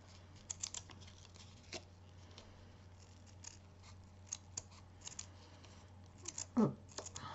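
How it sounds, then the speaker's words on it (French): Scissors snipping around a paper cutout for a craft project, a steady series of small close crisp cuts with one louder rasp near the end, over a faint background hum. "On va venir découper tout autour."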